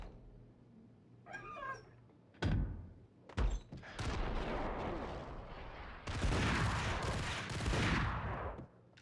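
Ingram submachine gun fire in the video game Max Payne: after a cat's meow and a couple of sharp bangs, long loud bursts of automatic fire fill the rest of the moment.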